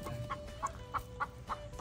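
A chicken clucking in a farm pen, five short evenly spaced clucks about a third of a second apart, close and clear over soft background noise.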